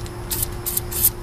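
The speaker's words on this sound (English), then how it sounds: "so I could spray a little bit of lube" Lubricant sprayed from an aerosol can onto a rusty, stuck brake drum, three short close hissing bursts in quick succession.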